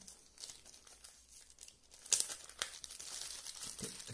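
Packaging for a Xiaomi automatic soap dispenser crinkles and tears as it is unwrapped close up, with soft rustling that builds to a sharper burst midway and continues in irregular crackles.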